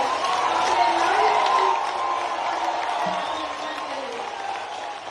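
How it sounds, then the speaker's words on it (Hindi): A crowd at a university hostel and building inauguration applauds with cheers and whoops, loud and sustained at first then easing slightly, with talk mixed in. "दोनों हाथ ऊपर उठाकर तालियों की गड़गड़ाहट से अपने लाडले"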